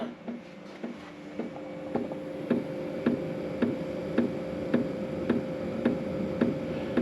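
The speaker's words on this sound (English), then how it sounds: "You can hear the fuel pump." Steady, evenly spaced mechanical ticks from a diesel heater fuel pump repeat about once every half second over a constant low hum and faint hiss.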